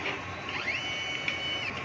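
A DTF printer runs a print head cleaning cycle, giving a steady mechanical whir with a high tone that rises, holds and fades, continuous and fairly quiet over nearly two seconds.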